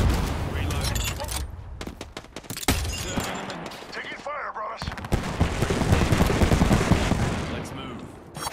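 Rapid gunfire bursts and heavy weapon blasts in the battle royale shooter Apex Legends, loud and dense throughout with brief gaps, mixed with in-game voices and effects.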